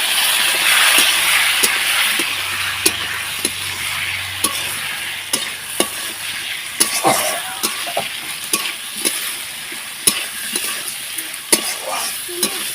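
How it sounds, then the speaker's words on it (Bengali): Pointed gourd and potato curry being stir-fried with a little water in a pan: a soft bubbling sizzle under repeated sharp scrapes and clacks of a spatula against the pan, close and irregular. "ওই ছোটো বাটি দিয়ে হাফ বাটির মতো দিয়েছি ওটা দিয়ে ভালোভাবে কষিয়ে নিচ্ছি"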